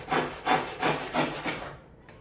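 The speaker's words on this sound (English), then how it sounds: "if I close one eye while sawing at the pencil line, it helps me to track that line better" A handsaw cutting through a wooden board along a pencil line, five or six rhythmic rasping strokes close up, evenly paced, then stopping into silence.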